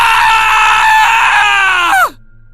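A man shrieks in fear in one loud, sustained, piercing cry lasting about two seconds. The cry slides sharply downward in pitch as it breaks off, leaving near silence.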